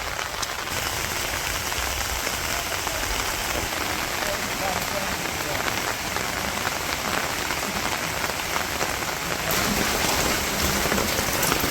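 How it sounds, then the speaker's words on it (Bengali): Steady rain pours down in a village during a storm, a dense, even hiss of drops on surfaces that continues unbroken and fairly close, with a slight swell near the end. "বৃষ্টি কমে গেছে আমার তো এরকম শব্দটা পাওয়া যাবে না"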